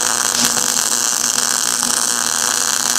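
A welder tack-welding metal for a clamp pallet on a Harbor Freight–type bandsaw, a loud continuous buzzing hiss with faint crackles running close and unbroken, without any talking.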